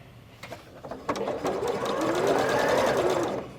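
A sewing machine stitches a quilt block onto its background fabric for a schoolgirl sampler quilt. The motor hums in a steady run that starts with a few short bursts and then holds for about two seconds before stopping.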